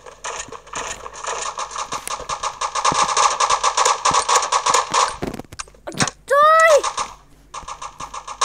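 Rapid sustained bursts of MG4 machine gun fire from the shooter game Bullet Force rattle loudly for about five seconds, followed by a short pause and a few further shots and game effects.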